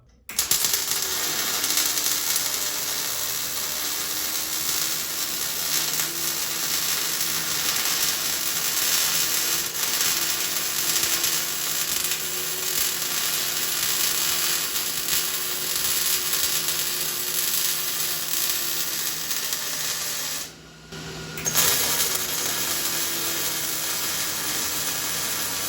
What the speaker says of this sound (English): So let's weld her on up.